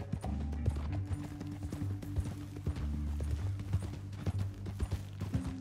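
Horse hooves clip-clop steadily in Red Dead Redemption 2, a rapid, fairly close rhythm of sharp knocks that continues throughout over a low droning musical score.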